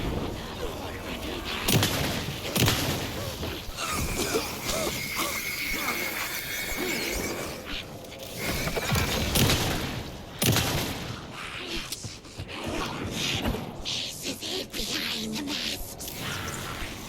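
Shotgun blasts and other gunfire in the survival horror game Alan Wake II, loud repeated bursts with booming impacts scattered through a dense, busy game soundscape.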